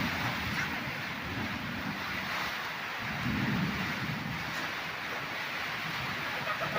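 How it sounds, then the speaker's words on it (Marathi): Steady rain hisses across fields with a low thunder rumble swelling midway, a soft, distant, continuous wash without voices. "कंप्लीट 1 तास झाला मित्रांनो पाऊस पडतोय"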